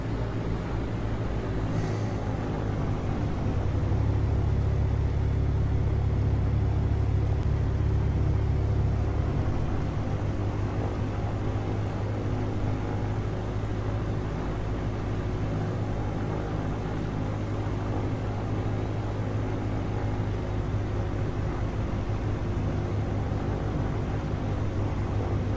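Mooney Bravo single-engine aircraft in FSX flight simulator, a steady droning engine rumble at throttle that grows heavier for a few seconds and then holds constant, with no talking.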